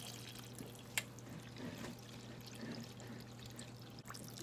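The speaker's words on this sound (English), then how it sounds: "I'm just going to fill it up with some more cold water" Cold water being poured into a pot of chicken bones for keto bone broth, a quiet steady splashing trickle over a low hum, faint and close, without speech.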